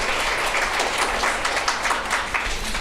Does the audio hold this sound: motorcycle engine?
no